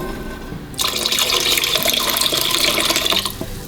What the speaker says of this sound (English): I'm gonna add about 2 cups of water.